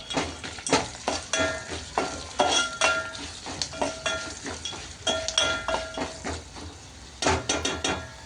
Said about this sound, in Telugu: కొంచెం పచ్చిమిర్చి వేగాక పసుపు వేసుకుంటున్నానండి